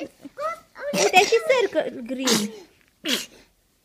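A young child sneezes once, a sharp, close burst amid a woman's speech at home, with a short vocal sound following.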